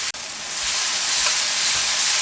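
Tomatoes and spices being stirred in an open frying pan, giving a steady, close sizzling hiss throughout with a faint clink near the start and no voices.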